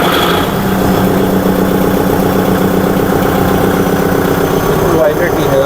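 A 2025 Kubota MU5502 4WD diesel tractor idles in a loud, steady low rumble with an even mechanical throb, while someone talks over it.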